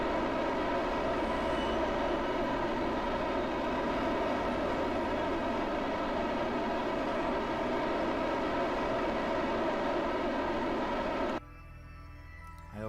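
Rocket engine roaring in Kerbal Space Program, a loud steady drone with no voices that holds for about eleven seconds before cutting off abruptly and leaving a faint hum.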